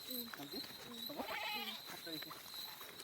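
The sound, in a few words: goat bleating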